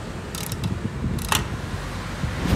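A ratchet wrench tightens two 12mm exhaust bolts on a Toyota Corolla XE, giving soft, faint mechanical clicking in short bursts over a low background rumble.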